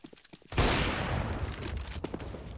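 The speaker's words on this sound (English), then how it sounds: "He doesn't even have to fire 3 bullets to get 3 kills." Gunfire on the de_cache map in a Counter-Strike esports match, a sudden loud crack after a quieter lead-in, followed by a dense, echoing burst of shots that tails off.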